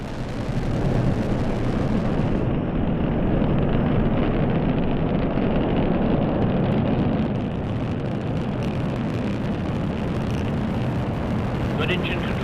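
Rocket engines roar during a launch toward Mars, a dense, continuous low rumble filling the whole stretch at steady loudness, with a mission announcer's voice running over it.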